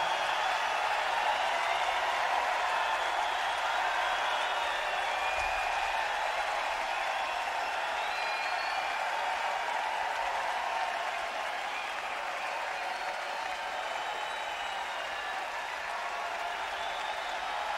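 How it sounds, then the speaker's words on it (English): Dense, sustained applause from a large concert crowd at Winterland on New Year's, a steady wash of clapping and cheering that holds for the whole stretch and eases slightly toward the end. "let's give this whole place a big round of applause"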